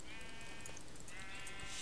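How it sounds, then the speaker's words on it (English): A sheep bleats in the Minecraft video game, a faint wavering call heard twice over a constant hiss of game ambience. "found another sheep."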